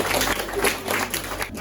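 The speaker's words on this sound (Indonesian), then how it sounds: "Tepuk tangan buat kelompok 4." Classroom applause for group 4 after a university entrepreneurship class presentation, a short, dense burst of clapping from the students.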